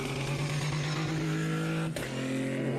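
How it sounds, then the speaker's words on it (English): Race car on a circuit at Aragon during a winter series round, its engine running steadily and loud close by with a sustained drone that briefly dips and stutters near the end, as if misfiring out of a corner. "it sounds like maybe there's a little bit of a misfire or something on that car just coming out of that corner"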